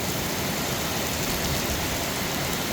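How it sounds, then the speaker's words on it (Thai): Heavy morning rain pouring steadily in Mueang district, Uttaradit, a dense, even hiss with no breaks, fairly close and moderately loud, with no voices over it. "โอ้แต่ว่าฝนมา มันมันตกตั้งแต่เมื่อคืน"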